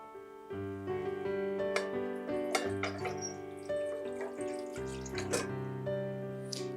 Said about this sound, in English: we're going to start with 2 cans of Swanson's chicken broth. We're gonna put it into the rice cooker.